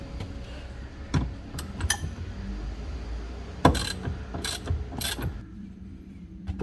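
Tightening the back mounting of a 3rd row seat in a Toyota Alphard/Vellfire van: a close series of ratcheting clicks and metallic knocks in uneven short bursts, with one sharper clank partway through and no talking.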